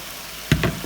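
Shrimp dropped into a hot pan of softened onions and garlic, quiet at first and then a sudden burst of sizzling with a couple of quick surges, close and brief, no talking.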